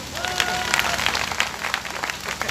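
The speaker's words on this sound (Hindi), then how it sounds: "भाई अब महिलाएं इनके लिए तालियां बजाएं" Women in an audience at a Hindi religious talk clap together, a dense patter of applause with crowd voices mixed in at moderate distance.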